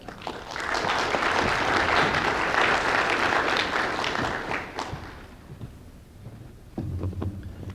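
A conference audience at a spaceflight development event applauds to welcome a speaker, dense sustained clapping for about five seconds that fades out, followed by scattered faint sounds and a brief low bump.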